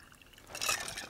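A drink poured out as a libation, a short liquid trickle and splash rising in the second half, soft and close.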